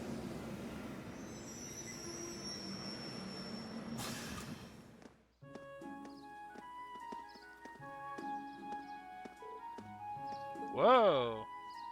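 A train in the Trails of Cold Steel game rattles along the rails with a rhythmic clatter of wheels, a brief metallic squeal near the end, and tonal game music layered over the running noise.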